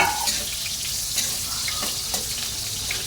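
Garlic sautéing in a pan for adobo, a steady broadband sizzle that holds at an even level, with faint clinks and stirring scrapes on top.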